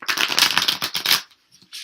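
A deck of tarot cards is shuffled by hand in a run of quick, close riffling bursts lasting about a second, then it falls silent apart from a few soft card taps near the end.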